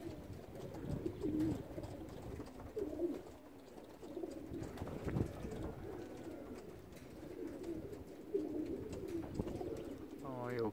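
Racing pigeons coo softly and repeatedly at close range during a training session, their low murmuring calls continuing steadily at modest volume against a quiet background.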